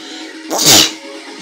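A single loud, sharp sneeze bursts out close by, abrupt and breathy, with quiet room noise before and after.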